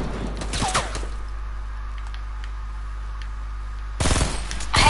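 Automatic gunfire in a battle-royale building shooter game, a burst of rapid shots at the start and another sharp volley near the end over a steady low game hum.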